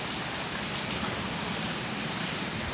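Wind-driven rain pours steadily outside, a dense continuous hiss with no pauses or voices.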